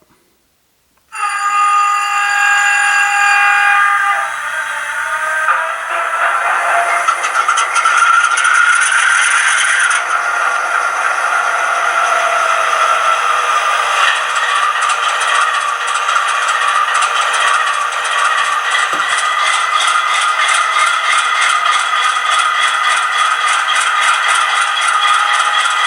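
A Scaletrains Dash 9-44CW HO scale model locomotive starts up with a sudden onset of steady electronic diesel sound from small speakers, a loud, even, tonal drone with rattling texture that holds throughout.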